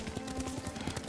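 Hoofbeats of a ridden horse in the samurai video game Ghost of Tsushima, a steady fast clip-clop rhythm under a low background drone, moderately close and fairly quiet.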